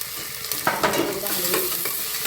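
Peas and potato pieces sizzle in a hot pan for masale bhat, with a spoon scraping and stirring in a few distinct strokes over a steady frying hiss, close and moderately loud with no talking.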